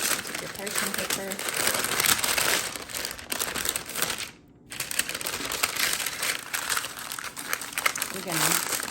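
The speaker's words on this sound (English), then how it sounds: "Take your parchment paper." Parchment paper is handled and crinkled in a kitchen, dense crackling rustles running nearly continuously with a short pause midway.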